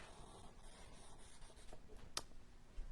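A pencil shades a drawing of apples in the style of Courbet with soft, faint scratching strokes close by. One brief sharper tick stands out near the end.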